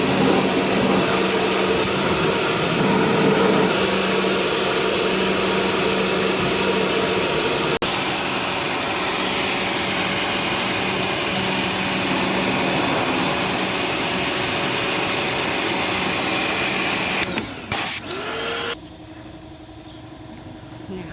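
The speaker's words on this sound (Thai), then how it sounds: "ฉีดล้างความสะอาดแผงแอร์หน้ารถนิสสันนาเมล่าค่ะ" A steady, loud hiss of a pressure washer spraying continuously on a Nissan Almera's front AC condenser, with a motor droning underneath, cutting off near the end to quieter hum.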